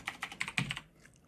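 Quick keystrokes clatter on a computer keyboard, roughly eight light clicks in an uneven burst with one heavier press, then the typing stops and near silence follows.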